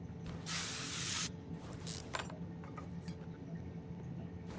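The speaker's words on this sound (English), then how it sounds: "After we spray the time or two." Spray can hissing over car parts while stripping brake caliper, rotor and axle in Car Mechanic Simulator 2021: one loud burst of about a second, then a shorter burst, with faint clinks of parts after.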